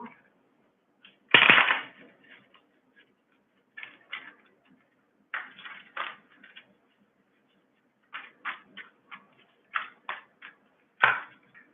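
A deck of cards is shuffled and handled in short irregular bursts of crisp riffling and tapping, with one louder flurry near the start and quieter clicks and snaps spaced out afterward.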